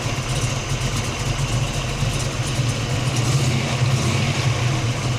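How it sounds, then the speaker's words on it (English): A 1969 Ford Mustang Fastback with a lumpy cam idles in a steady, mechanical, low rumble with a slightly choppy pulse, close by and alone. "This engine has a really kind of mechanically sound to it with the cam that's in it."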